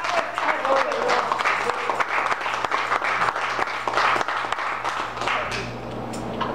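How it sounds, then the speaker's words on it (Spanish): Dense, steady applause from a large church congregation, sustained without a break from start to finish. "Denle un aplauso a Jesús."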